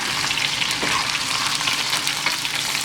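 Sous vide ribeye steak searing in a hot pan, a loud, steady crackling sizzle of fat spitting close by, continuous with small pops throughout and no talking.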